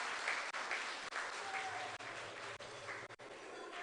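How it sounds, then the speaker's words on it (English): Audience at a forum applauding a speaker, a continuous, fairly faint and distant wash of clapping, broken by a few brief dips, with a low murmur beneath it. "Give her a round of applause"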